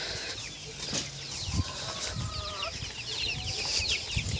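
Young chicks in a farmyard cheep and flutter their wings while waiting for feed, a busy continuous chatter of small calls with soft flapping, fairly close and moderate in level.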